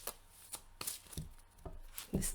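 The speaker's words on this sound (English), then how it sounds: "This is how you don't shuffle." Oracle cards being shuffled by hand, a series of separate soft riffling slaps and taps at an uneven rhythm, close and quiet, with no talking.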